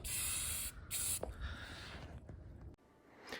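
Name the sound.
spray paint can spraying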